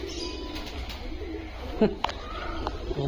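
Birds calling at an ostrich farm: a couple of brief cooing calls rise just past the midpoint over a steady outdoor murmur, with voices faintly in the background.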